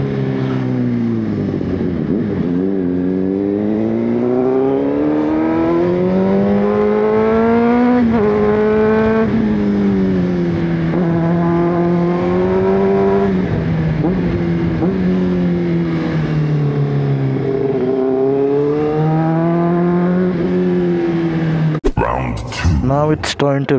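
A ZXJC 500RR sport motorcycle engine under way: a loud, continuous drone that rises and falls in pitch with the throttle for the whole stretch, close to the microphone, ending in a short burst of noise.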